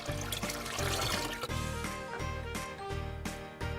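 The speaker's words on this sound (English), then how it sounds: "Okay, pour some tea into my cup." Tea being poured into a cup from a toy kitchen playset, a steady trickling dribble of liquid running continuously alongside light tinkling.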